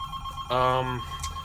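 A telephone rings once in a short burst indoors, a loud tonal trill lasting about half a second over low room noise, with a fainter chirp following shortly after.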